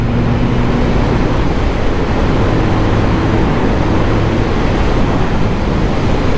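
A 2013 Honda CB1100 motorcycle under way, its engine humming steadily beneath a constant heavy rush of wind noise, with slight shifts in pitch as the throttle changes.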